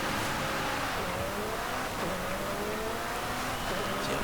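A 2020 McLaren GT grand tourer in Forza Horizon 5 revs hard and accelerates along a straight, a loud continuous engine note with rising harmonic sweeps, close and steady throughout with no pauses.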